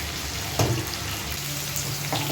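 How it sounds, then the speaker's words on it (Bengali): Potatoes fry in hot oil in a pan, making a soft, steady sizzle with a couple of brief stirring clatters, close by and fairly quiet. "আলুগুলো একটু ভালো করে ফ্রাই করে নিতে হবে বন্ধুরা"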